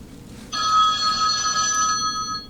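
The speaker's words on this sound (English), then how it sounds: "The boys in the booth are routing in a phone call." A telephone rings for an incoming call routed from the booth during a podcast, one bright, loud burst of trilling bell lasting well over a second after a quiet moment, heard alone without talking.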